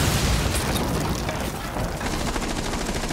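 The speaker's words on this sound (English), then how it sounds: "Okay, I'm gonna go destroy this wall." A wall blown apart by an explosion in Rainbow Six Siege on a bomb map, a loud, dense rumbling blast with crackling debris that fills the whole stretch without letting up.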